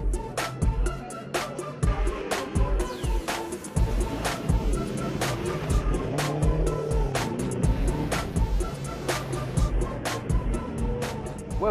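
Onboard engine noise of an Alfa Romeo 4C sports car lapping Donington Park circuit, a fluctuating drone with repeated sharp clicks and bursts, steady and fairly loud.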